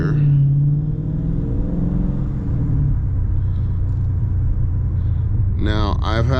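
A Dodge 392 Scat Pack V8 rumbles low and steady from inside the car while driving, with a brief rise in revs at the start. Someone talks over the engine throughout.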